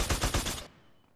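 Video game gunfire cracks out in a loud, rapid burst of about four shots, then cuts off abruptly into near silence.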